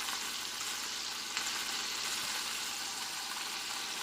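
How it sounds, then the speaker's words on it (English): Chopped onion going into a hot pot for homemade chicken soup, giving a steady, continuous sizzle with no voices. "I'm going to go ahead and add part of the onion in."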